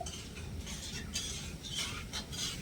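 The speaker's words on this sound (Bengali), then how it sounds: "হাফ কাপ জল নেড়ে ছেড়ে চিনিটা গলিয়ে একতারের একটা চিনি রস বানিয়ে নিতে হবে" Sugar, cardamom pods and half a cup of water are stirred together in a pan to make syrup, giving a quiet, steady scraping and swishing with faint clinks of the utensil.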